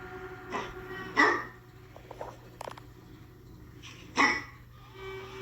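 A dog gives a couple of short, muffled barks a few seconds apart, fairly faint against a low background hum.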